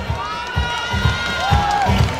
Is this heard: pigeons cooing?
no